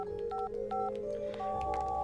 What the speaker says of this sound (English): I use another phone to call it.